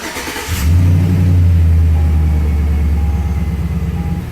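A 2006 Chevrolet Silverado 1500 Z71 pickup engine cranks, catches and settles into a steady, loud, close idle with a deep rumble, no talking.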